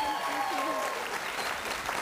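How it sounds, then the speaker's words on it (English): Brief, steady studio audience applause at a televised dance competition, with a voice briefly sounding over the clapping. "give them a round of applause"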